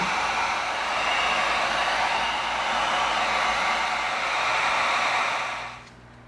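A heat gun blows hot air onto an EVA foam seam, a loud, steady, close hissing roar that runs for several seconds and then drops away near the end.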